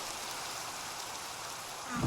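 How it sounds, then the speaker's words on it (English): Video game rain falling as a steady dense hiss of drops, even and continuous, with a faint low sound entering at the very end. "sorry about all this rain"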